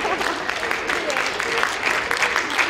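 Audience applause at the final of a KVN comedy show, a lively, fairly close patter of many hands clapping with uneven swells throughout.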